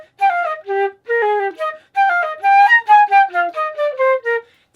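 Low flute notes played with a swallowed, muffled tone, a phrase of about a dozen separate notes in a halting rhythm, close and clear with no talking.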